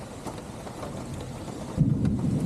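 Steady rain pours through a summer lightning storm with falling limbs and trees, a continuous close wash of drops that swells near the end as a low thunder rumble rolls in.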